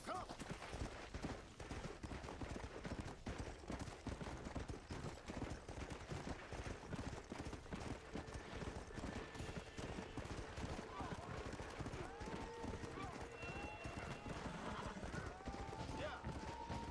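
Horse hooves clip-clop steadily through a Red Dead Redemption ride, fairly close and continuous, mixed with game ambience and occasional distant gunfire-like pops.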